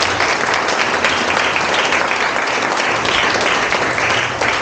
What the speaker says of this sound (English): let's give the CCP staff a round of applause